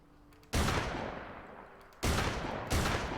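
An MC-25 semi-automatic shotgun fires in Fallout 4: three loud, sharp booming blasts, each trailing off in a long decaying roar, spaced unevenly over a few seconds.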